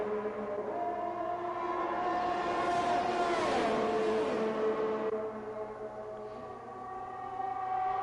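Race cars in a sim racing game at Spa-Francorchamps scream through Eau Rouge and Raidillon, a sustained high engine whine swelling as cars pass close, then easing off, with no talk.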